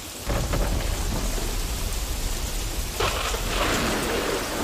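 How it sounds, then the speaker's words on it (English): Thunder and heavy rain in the King Kong video game, a dense continuous downpour with a deep rumbling roll that swells again midway, loud and unbroken with no speech. "Man, the sounds of that lightning, dude."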